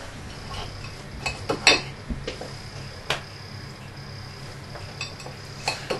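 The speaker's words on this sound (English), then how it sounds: "So we just take our chicken and cut it into nice small manageable pieces." A few light knife taps and clinks on a board as chicken is cut into small pieces, scattered and irregular, close by in a quiet kitchen with no talking.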